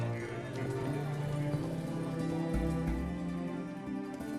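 Steady clip-clop of horse hooves trotting along, with game music and ambient noise continuing underneath throughout, in The Witcher 3: Wild Hunt.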